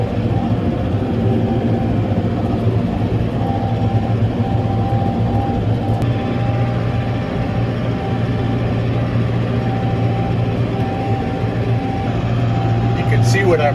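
An Oliver 1755 tractor pulls a harrow across a hay field, its engine a steady, loud low drone that runs without a break from start to finish.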